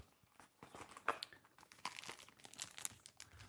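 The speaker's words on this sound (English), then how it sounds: "I'm going to go ahead and unwrap the individual pieces." Crinkly plastic packaging rustles and tears close up as the pieces of a budget Glory piccolo bought from Amazon are unwrapped, a quiet run of irregular crumpling bursts.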